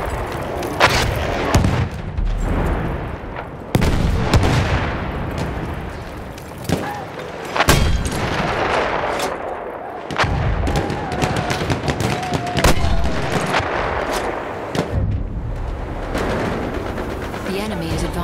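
Artillery barrage and gunfire in a Battlefield battle: continuous rattling gunfire with repeated heavy booming impacts throughout, loud and dense, with voices calling out over the din.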